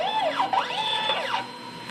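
An inkjet printer runs a head-cleaning cycle, its carriage motor whining in rising and falling sweeps with mechanical clicks, close and steady for a couple of seconds with no talk.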